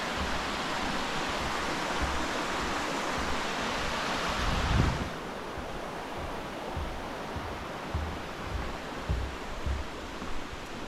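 Steady, broad rush of a waterfall in the Georgia mountains. It sounds loud and continuous, drops slightly halfway through, and no voices come over it.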